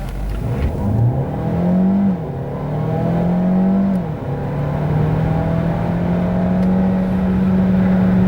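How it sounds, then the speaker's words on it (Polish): A 2022 Opel Grandland 1.6 plug-in hybrid SUV with 300 hp accelerates hard from 0 to 100 km/h, pitch climbing through several gear shifts before settling into a steady, loud drone; no voices. "Całość ma 300 koni mechanicznych i tak rozpędza samochód od 0 do setki."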